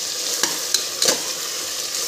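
Soaked dried peas go into a frying tomato bath mixture in a pan, a steady close sizzle with a few soft clinks and stirring scrapes.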